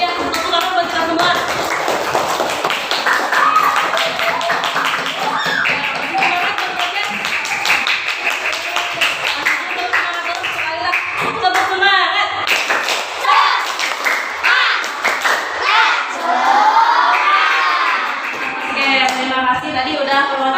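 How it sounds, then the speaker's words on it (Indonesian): Students in a teacher-training classroom session in Bandung clap together, a loud stretch of hand clapping and tapping mixed throughout with voices talking and laughing over the room. "tepuk tangan buat kita semua"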